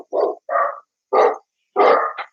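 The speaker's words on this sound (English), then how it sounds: "the dog just saw another dog, and now she's flipping out" A female dog barks excitedly at another dog seen through an open front door, giving four loud, close barks in quick bursts with short gaps, the last one clipped into a brief yelp.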